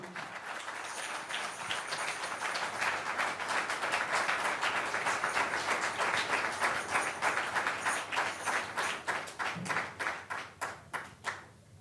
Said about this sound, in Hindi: भाई आमर को ज़ोरदार तालियों के साथ वेलकम करेंगे